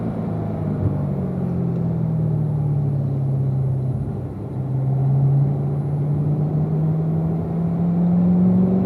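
A Corvette engine droning steadily at a racetrack on Spring Mountain, with a sustained loud rumble whose pitch dips and then climbs again as the driver shifts down to fourth gear entering a turn.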